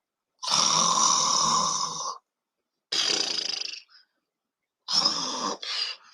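A snoring sound effect plays as three loud, rasping snores, the first long, then a shorter one, then a final snore broken into two parts, with silent gaps between and no talking.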